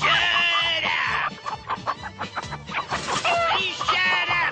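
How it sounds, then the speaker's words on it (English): Chickens clucking and squawking in a loud, busy burst with overlapping bird calls, some crowing-like cries and a brief clattering passage in the middle. "Please shut up, chickens!"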